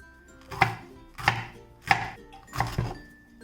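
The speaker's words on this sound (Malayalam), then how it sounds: "ക്യാപ്സിക്കം ഞാൻ ഇതുപോലെ ചെറുതായിട്ടാണ് കട്ട് ചെയ്തെടുക്കുന്നത്" A knife chops capsicum into small pieces on a cutting board, four firm, evenly spaced thuds, close and loud, with no talking.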